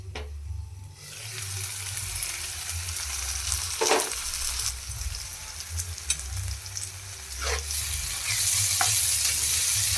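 Garlicky eggplant bharta stirred and frying in a pan, a steady close sizzle with scraping strokes of a spoon and a few sharper clinks, continuous throughout with no talking.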